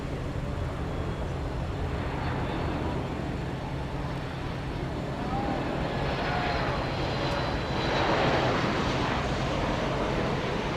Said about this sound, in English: Here comes American 2399 from Silao in Mexico. It's a MAX 8